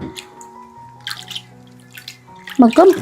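Hands sloshing food in a bowl of water: soft intermittent swishes and drips over a low hum, ending in a louder splashy stir.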